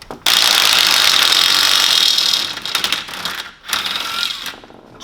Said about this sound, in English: Now we've removed the nut, we removed the bolt, so the starter motor will actually, you can just grab it